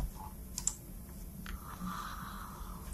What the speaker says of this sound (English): so type in ipconfig, enter